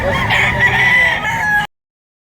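A ten-month-old Boston Roundhead rooster at a chicken market in Lipa, Batangas gives a single loud, close crow that cuts off abruptly into silence.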